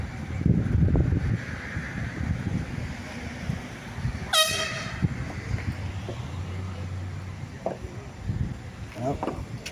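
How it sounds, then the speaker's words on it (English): At an outdoor putt-putt golf tournament, an air horn blasts once nearby, short and sharp, while a commentator keeps talking before and after it. "somebody's got an air horn"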